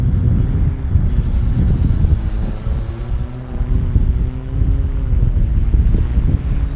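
Strong wind buffets the microphone outdoors while a larger quadcopter flies, a loud continuous low rumble that swells and dips with the gusts, with no voices.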